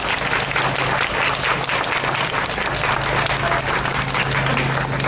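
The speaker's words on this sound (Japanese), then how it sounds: "大きな拍手をお願いいたします。" An audience at a civic diversity discussion event in Fuchu, Tokyo, gives sustained applause. The dense clapping fills a large hall at steady volume throughout, with a faint low hum beneath.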